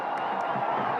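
A stadium crowd gives a short burst of dense, steady applause and cheering as cricketer Mohammad Rizwan is welcomed, heard briefly and at moderate loudness.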